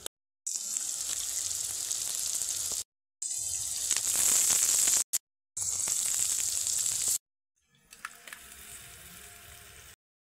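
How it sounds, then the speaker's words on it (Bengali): Four eggs sizzling in hot spiced masala in a kadai for Bengali-style egg tadka, a loud steady frying hiss in several bursts broken by short silent cuts. "একে একে 4টা ডিম এখন আমি কড়াইতে দিয়ে দেব"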